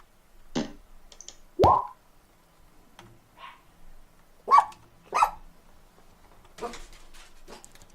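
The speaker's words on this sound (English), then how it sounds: "Loud doggy." A dog barks loudly in a series of sharp, separate barks spaced across several seconds, fairly close, with a quiet room and faint background sound between them.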